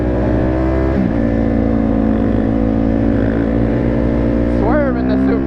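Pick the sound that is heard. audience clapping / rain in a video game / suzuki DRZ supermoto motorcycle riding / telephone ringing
suzuki DRZ supermoto motorcycle riding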